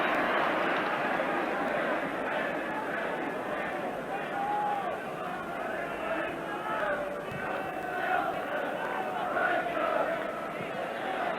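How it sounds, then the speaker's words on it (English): A large football crowd at a 1985 Sunderland vs Chelsea match roars and murmurs continuously in the stadium, a broad, steady swell of massed voices under the noise of play. "Crowd anxious for the ball to be crossed"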